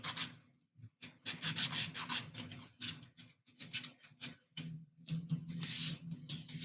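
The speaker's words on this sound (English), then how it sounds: "Let's sand these down first." Model kit parts sanded down by hand to remove attachment points, a close, steady scratchy rubbing in quick bursts with brief pauses, alone without talk.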